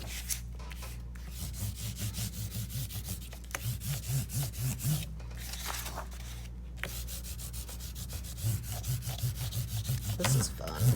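Crayon rubbed back and forth over a leaf laid under paper gives a close, steady scratchy rasp in rhythmic strokes, with brief pauses between passes.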